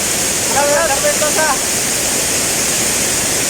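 Gethsemane Hidden Falls in Bayugan City, Agusan del Sur, roaring as a loud, steady broadband rush of falling water, with a brief voice heard faintly under it early on.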